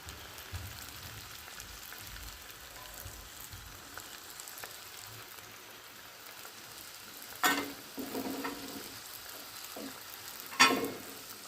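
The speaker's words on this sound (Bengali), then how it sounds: "আমার তেলটা গরম হয়ে গেছে এবারে আমি হচ্ছে পিঠাটা ছেড়ে দেবো এভাবে করে আমি আস্তে আস্তে সুন্দর করে পিঠাটা ভেজে নেব" Pan pitha fry in hot oil, a quiet steady sizzle close by, broken by a few sharp spits and crackles near the end, with no voices.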